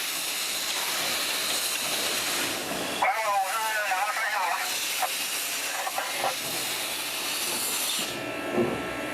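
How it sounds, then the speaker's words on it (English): Steam hisses steadily as it is fed into the cylinders of a Shangyou type steam locomotive, a broad continuous rush with a brief whistling tone partway through and a voice talking over it. "The boiler valve is loosened and steam sent into the cylinders."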